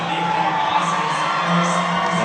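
A high school basketball crowd roars and cheers after a slam dunk, a dense sustained din of voices and whoops filling a gym.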